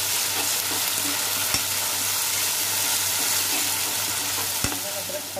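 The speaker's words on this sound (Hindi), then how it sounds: "इसका कच्चापन दूर होने तक फ्राई करेंगे।" Ginger garlic paste fries in a pan as the base for a dhaba-style egg masala curry. A steady, close sizzle continues throughout, broken by a couple of sharp scrapes or taps from stirring.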